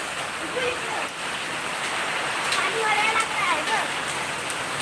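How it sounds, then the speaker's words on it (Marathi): Steady patter of hailstones drumming on metal roof sheets, dense and continuous, with a voice talking over it. "लगेच बर्फ ते बघ ते बघ पडतात वरती पत्रावर दिसत काय"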